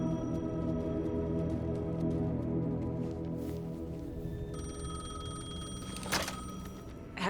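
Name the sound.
payphone ringing in video game Alan Wake 2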